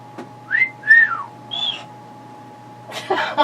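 A pet whistles in a few short, rising and falling chirps, some of them sliding tones, with pauses between them. A brief burst of rustle or voice follows at the end.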